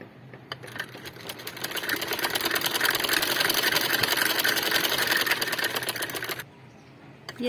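A sewing machine stitches a cover in a fast, even, continuous run of mechanical whirring for about six seconds, close by, then stops abruptly and briefly restarts.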